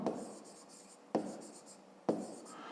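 Pen writing on paper during a fifth-grade maths exercise: three distinct scratchy strokes close by, each starting with a sharp touch and trailing off, with no talking.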